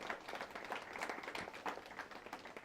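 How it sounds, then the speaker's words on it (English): Applause from an audience welcoming the judges at a high school debate round, steady dense clapping filling the whole stretch at moderate volume with no voices over it. "Our judges, please give them a big round of applause."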